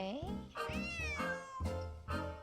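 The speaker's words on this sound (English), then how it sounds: "Otherwise, he'll just keep meowing." A cat meows several times in a row inside a Nancy Drew mystery game, each cry loud and close with a rising, drawn-out pitch and short gaps between the calls.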